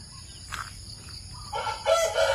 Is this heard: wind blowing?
no